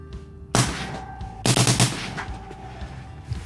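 Two loud, sharp rifle reports from a Henry lever action rifle firing Black Hills ammunition outdoors, spaced about a second apart, each with a brief echoing tail and no talking.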